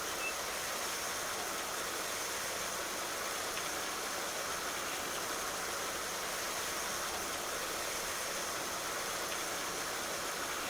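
A pressure washer sprays down a dirty tractor in Farming Simulator 19, producing a steady, loud, unbroken hiss of rushing water with a faint engine hum beneath it.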